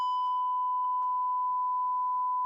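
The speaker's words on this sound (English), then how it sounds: "I was trying to beep it out for you." A steady censor beep tone runs unbroken through a podcast conversation, covering a spoken question, with faint bits of talk showing through underneath.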